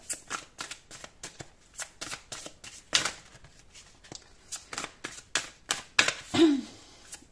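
Tarot cards are shuffled by hand, close and quiet, a rapid run of soft riffling snaps and slides in irregular bursts.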